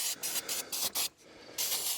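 Carburetor parts cleaner sprays from an aerosol can during tractor maintenance on a Kioti 3520, in four or five short, loud hissing bursts with brief gaps and one longer final spray.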